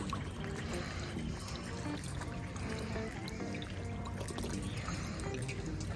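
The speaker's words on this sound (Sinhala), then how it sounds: "24 පැයෙම මේ විදිහට වතුර එනවා." A drinking water tap in a palace garden runs continuously, giving a faint, steady trickle and splash of flowing water with light outdoor ambience.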